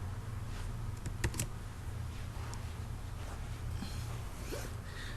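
Typing on a computer keyboard in Microsoft Word, a quick irregular run of close key clicks with a couple of louder taps, under a steady low hum.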